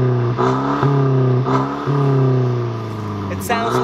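Mercedes C200 (W205) fitted with a C63 AMG-style valve exhaust set to its open mode, revving in several short blips that rise and fall over a steady idle, heard close and loud.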